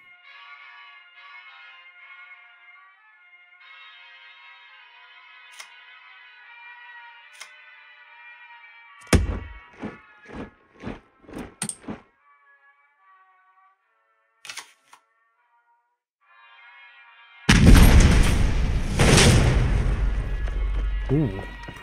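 Precision-strike explosions in the WWII card video game KARDS arrive as a quick run of sharp thuds and cracks over a soft tonal music bed, then a long, loud rumbling blast near the end.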